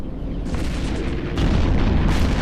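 A spaceship being destroyed in the EVE Echoes space game, heard as a deep rumbling boom that keeps swelling, with a few bursts of crackling blast layered over it.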